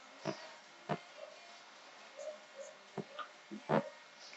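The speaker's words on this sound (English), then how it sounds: "Legacy of Bo barking the whole time." A dog barks in the background of an indoor interview, a few sharp, faint barks spaced irregularly across a quiet room with no talking.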